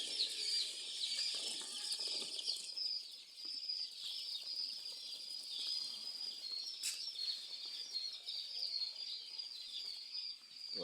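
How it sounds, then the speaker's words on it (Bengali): Colored chicks in a netted pen give a continuous chorus of high, thin peeping, steady and fairly close, with a few sharper calls standing out and no voices over it. "এই যে এগুলো মুরগির বাচ্চা"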